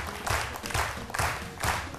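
A studio audience at a French-language midday TV show claps for a surprise guest. The applause comes in four rhythmic swells over two seconds, moderately loud, with no talking.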